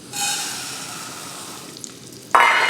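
Rice sizzling and frying in a pot on a stovetop, a steady broadband hiss that swells loudly near the end as the rice hits more heat or gets stirred.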